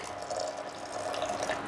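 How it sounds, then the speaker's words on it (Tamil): About three-quarters of a glass of hot water poured into a pot of rice while preparing lunch, a steady close splashing trickle that runs through the whole moment without speech. "முக்கால் கிளாஸ் அளவு தண்ணி ஊற்றிக்கிட்டேன்"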